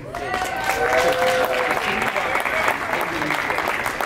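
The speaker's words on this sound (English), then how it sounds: "Y'all give a round of applause for my talents of Work Film." An audience applauds during an interview, loud and steady clapping with crowd noise and voices over it.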